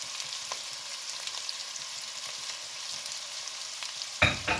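Boneless chicken pieces and carrot fry in a pan for a buckwheat dish, making a constant low hiss of sizzling oil that ends in a sudden louder clatter and burst of sizzle as the food is stirred.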